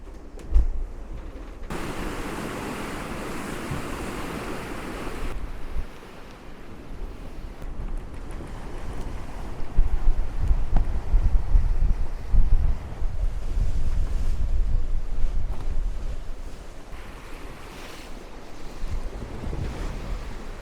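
A sailboat under full sail running downwind in 20 knots of wind, with loud gusts buffeting the microphone and waves rushing and surging past the hull in shifting swells throughout.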